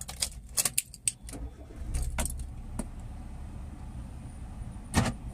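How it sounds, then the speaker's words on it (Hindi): Keys jangle sharply in the ignition of a Hyundai i10 being switched off and restarted, followed by a low engine rumble and a later click, heard close and without talk. "फिर से एक बार गाड़ी बंद करके स्टार्ट करते हैं।"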